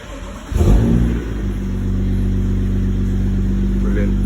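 A BMW 435i with the N55 engine, fresh spark plugs fitted after a misfire, cranks and fires close by, flaring briefly before settling into a loud, steady, even idle.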